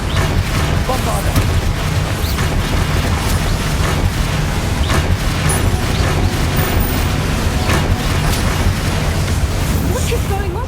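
Booming blasts from the Bombarda explosion spell in Hogwarts Legacy, several heavy bursts over a continuous loud rumble of game combat, with a voice speaking over it.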